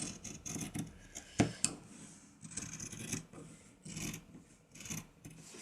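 Scissors trim fabric binding on a St. Patrick's Day table centre, a close series of soft irregular snips and rasping cuts with a few sharper clips between quiet pauses.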